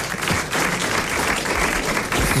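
A studio audience on a French radio quiz show applauds a contestant who has just won 1000 francs, a short burst of dense, close clapping filling the whole moment.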